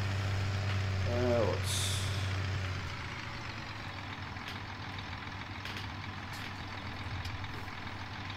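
A stuck Peterbilt truck in Farming Simulator rumbles with a steady low engine drone, a brief hiss like an air brake near the start, and someone talking over it.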